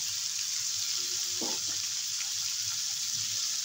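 A little water poured into a frying pan of cooking bele fish with tender stalks: a steady hiss of sizzling throughout, with one brief, close splash as the water lands.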